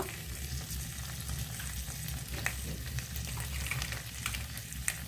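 Turmeric, chili powder and Kashmiri chili are stirred into cooked-down tomatoes in a frying pan, with a steady sizzle and occasional scraping strokes of a spoon heard up close and alone.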